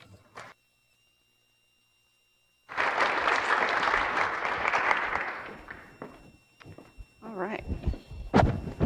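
An audience gives a lecture-hall applause to welcome speaker Tara Kern. The clapping starts abruptly after a short silence, holds full and steady for a few seconds, then thins out into scattered claps and a bit of shuffling.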